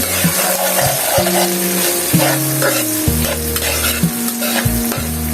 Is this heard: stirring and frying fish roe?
yes